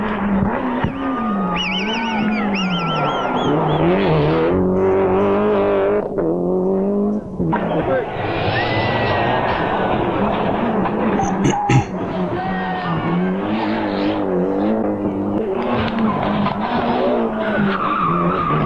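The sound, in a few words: Toyota ST-185 Group A rally car engine on tarmac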